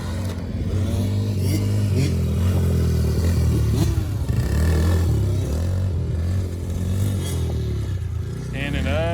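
Quad and dirt bike engines rev and drone close by, throttle rising and falling in a rough, continuous buzz, while people talk over the motor noise.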